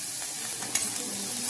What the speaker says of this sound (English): You can see the sizzling effect and the smoke that is emitting.